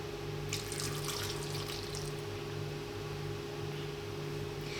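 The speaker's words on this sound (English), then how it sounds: "Now we're gonna add cold water." Cold water poured into a food blender jar holding chickpeas, a steady close splashing and trickling that runs unbroken for several seconds over a low constant hum.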